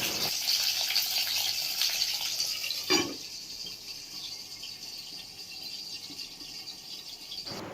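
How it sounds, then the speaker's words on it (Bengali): Bhetki fish fillets frying lightly in hot mustard oil, a continuous soft, hissing sizzle. A brief clatter about midway, then the sizzle settles slightly quieter, with no talking. "এখন আমি মাছগুলো হালকা ভেজে নেব, একটু এপিট ওপিট করে ভেজে নেব"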